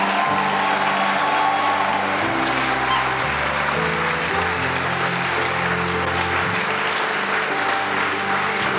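A church congregation applauds and acclaims the Lord in worship: a loud, sustained roar of clapping from many people that carries on for several seconds, with faint voices and a tonal sound running underneath.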